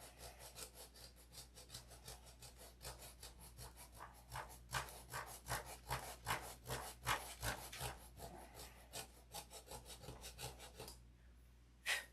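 Folded 80-grit sandpaper scrubbed by hand along a fillet, steady rapid back-and-forth rasping strokes, close and faint, continuing for several seconds before stopping.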